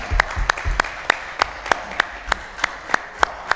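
Claps ring out in a steady, evenly spaced rhythm at a meeting of a surgical manufacturers and traders association, sharp single hits rather than a crowd roar, with a brief louder patter at the start.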